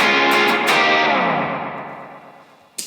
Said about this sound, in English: I'll click on snapshot 2, the Memory Man delay again